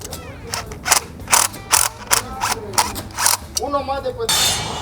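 A vinyl fence gate latch is flipped around during installation, giving a run of ratcheting mechanical clicks and clunks at close range with a brief creak near the end.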